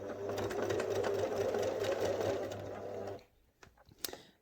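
A sewing machine runs steadily for about three seconds, stitching fabric for a Rowan Bunny toy. It then stops abruptly and is followed by a few faint clicks and handling noises.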